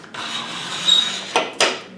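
Excess glue being scraped off wood with a hand scraper: a close, dry, rasping stroke of about a second, followed by two short, sharp scrapes, with no talk.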